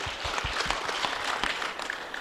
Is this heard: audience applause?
yes